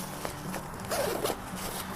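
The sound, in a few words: backpack zippers being opened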